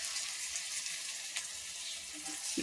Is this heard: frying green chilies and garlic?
yes